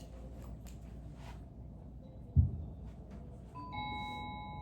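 A doorbell chime rings out plainly near the end, several steady ringing tones after a short thump, over a low background hum.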